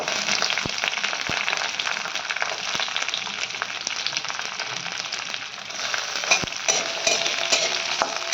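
Chopped ginger and onion fry in hot oil in a pan for chilli chicken gravy, a dense, loud, continuous sizzle close by, broken by a few quick spatula knocks and swelling briefly near the end, with no talking.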